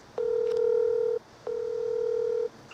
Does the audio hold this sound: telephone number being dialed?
yes